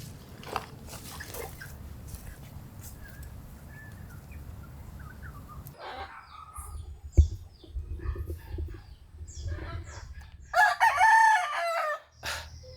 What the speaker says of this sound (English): So this is the backyard, full of chickens.